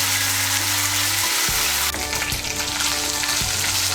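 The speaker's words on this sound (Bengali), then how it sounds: "আদা বাটা আর কাঁচা লঙ্কা বাটাটাকে তেলের সঙ্গে মিশিয়ে নিয়ে একটু ভেজে নিয়েছি" Ginger paste and green chili paste frying in hot oil for a Bengali catla fish curry with cauliflower, a steady close sizzle throughout with occasional spoon scrapes and stirring knocks, no voices.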